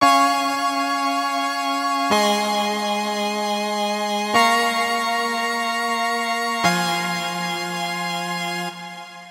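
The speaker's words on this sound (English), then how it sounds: "It's this super awesome retro synth" A bright, buzzy retro synthesizer plays sustained chords, changing roughly every two seconds, rich in harmonics and alone without voices.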